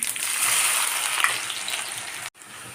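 Onion, mustard seeds and cumin fry in hot oil, a loud, close, dense hiss and crackle of sizzling that runs steadily, then cuts briefly and resumes more quietly.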